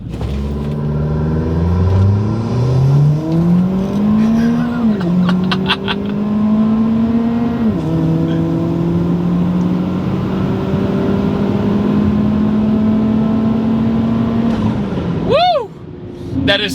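A 300 hp all-wheel-drive Buick Encore accelerating hard, engine note climbing through several gear shifts with a loud rising drone and road rumble, recorded close from inside the car.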